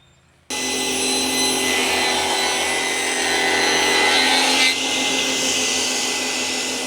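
A power saw rips a full rabbet into Royal PVC door legs, starting abruptly with a loud, sustained high whine and cutting noise that holds steady for several seconds.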